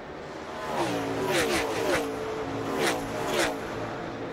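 NASCAR stock cars racing at Nashville Superspeedway in 2004, engines droning with rising and falling pitch as cars sweep past, several passes swelling and fading across a few seconds.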